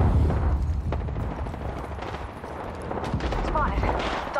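Gunfire in Apex Legends comes as a continuous loud stream of overlapping shots and booming impacts, with a game voice line partly under the din.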